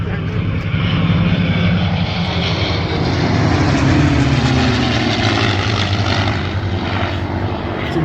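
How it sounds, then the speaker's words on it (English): Loud, steady drone of a P-51 Mustang's Packard-built Merlin piston engine and propeller at an airshow, a sustained close roar holding level without a break throughout. "Packard licensed Merlin engine."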